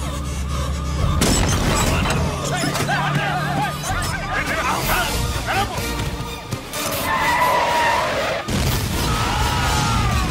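A bomb goes off in a Telugu action film scene, a dense, loud boom layered with dramatic music and agitated crowd voices that carry on throughout.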